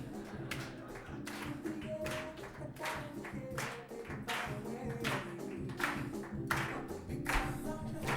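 An audience claps along in a regular beat at a Geneva gathering, crisp repeated hand claps over continuous background music, fairly loud and close, no voices.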